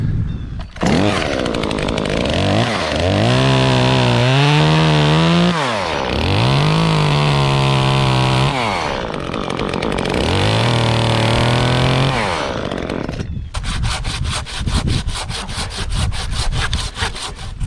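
A chainsaw topping a tree near a power line revs and bites into the wood in three long cuts, each rising and falling in pitch, then settles into a rapid idle chatter, loud and close.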